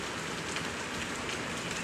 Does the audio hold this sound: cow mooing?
no